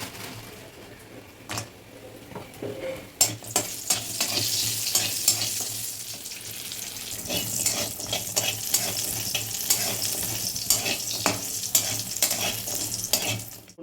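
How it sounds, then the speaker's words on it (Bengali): Lentil dumplings (bori) fry in a pan with a steady, close sizzle, broken by frequent scraping stirs and light knocks of a spatula against the pan. "বড়িগুলো এবার ভেজে নিই।"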